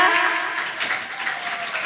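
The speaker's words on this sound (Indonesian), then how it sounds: "Oke, tepuk tangan untuk kita semua." A studio audience applauds on an Indonesian television talk show about teen health, the clapping loud at first and then easing to a steadier, softer patter.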